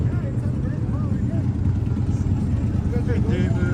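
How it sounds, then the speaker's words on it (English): Steady engine rumble of motorcycles on the Las Vegas Strip, loud and continuous, with voices faintly chattering in the background. "Man, those motorcycles are loud."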